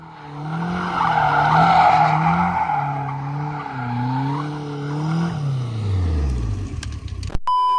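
A Caterham 420R sports car with grippy tyres squeals and skids through a corner, a loud sustained screech with wavering pitch over the engine, then a rising, fading whine.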